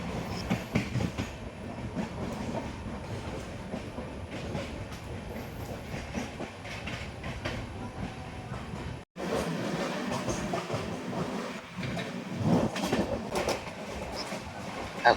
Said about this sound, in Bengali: এখন ট্রেন প্রায় হাই স্পিডে চলছে, আমরা সোজা মুম্বাইয়ের দিকে যাচ্ছি